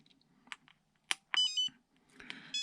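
Flysky FS-G7P seven-channel car, boat and tank radio transmitter sounding its alarm: a string of sharp electronic beeps, some short and some held, fairly loud and close, with faint background noise and no talking.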